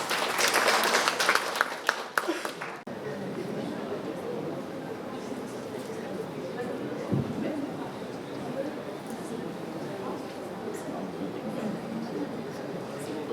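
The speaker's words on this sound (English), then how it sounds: "A round of applause, please." Applause rattles briefly at the start, then cuts off and gives way to a roomy space with a voice talking over low background noise.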